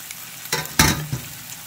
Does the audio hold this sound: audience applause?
no